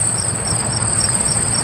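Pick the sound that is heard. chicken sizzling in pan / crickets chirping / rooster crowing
crickets chirping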